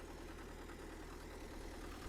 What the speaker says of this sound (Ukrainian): Не знаю, передасть мікрофон чи не передасть роботу двигуна.